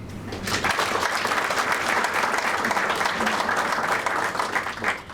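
An audience at a migrant stigmatisation conference in Kilkenny applauds Murty Brennan, with sustained, even clapping that rises quickly, holds steady, and fades near the end.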